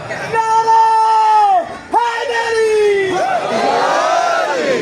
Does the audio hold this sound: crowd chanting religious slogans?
yes